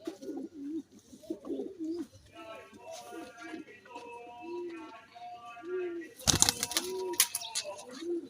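Pigeons in a mesh coop give repeated low, rolling coos close by, with wings flapping loudly near the end while someone talks over them.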